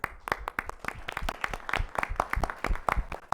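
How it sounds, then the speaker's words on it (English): Staff at a council meeting receive a round of applause, a dense, steady patter of many hands clapping close by for a few seconds. "they deserve all the applause that can be given"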